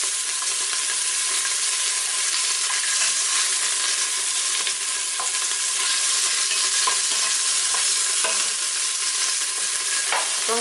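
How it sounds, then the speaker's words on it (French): Beef pieces for bourguignon sear in a hot pan, giving a steady, loud broadband sizzle with occasional small crackles and pops throughout, no voices. "le mieux c'est de dorer les 4 faces, comme ça, sans pour autant cuire totalement la viande"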